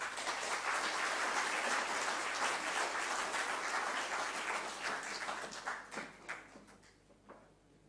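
A lecture audience at the University of Otago welcomes Dr. Andrew Clarkson with sustained, even applause that holds steady for several seconds, then thins out into a few scattered claps.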